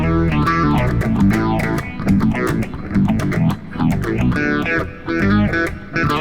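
Electric guitar riff played through an Axe-Fx III with phaser and a lighter reverb, the phasing sweeping audibly across loud, distorted chords and picked notes.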